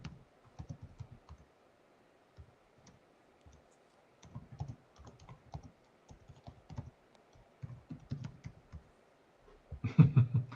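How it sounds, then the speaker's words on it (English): Soft computer keyboard typing in scattered bursts of clicks, close and quiet, with pauses between runs and a louder flurry near the end. "Yeah, I see you typing."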